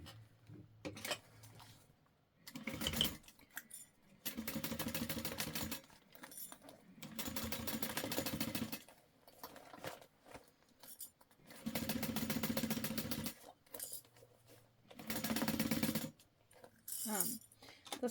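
A sewing machine stitches a clear vinyl Guardian backpack in bursts of steady mechanical whirring, separated by pauses, handling noises and faint clicks.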